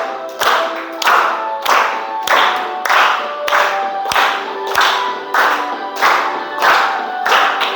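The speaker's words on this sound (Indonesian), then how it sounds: "Tepuk tangan, clap your hands." Children clap their hands in a steady rhythm, with one sharp clap roughly every 0.6 seconds, close and loud, while singing voices run between the claps.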